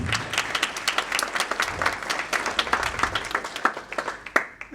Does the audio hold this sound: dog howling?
no